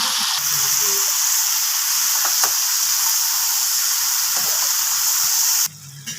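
Ridge gourd curry seasoned with turmeric and salt hisses loudly in a pan while being stirred, a dense continuous sizzle with a few scrapes that cuts off abruptly near the end.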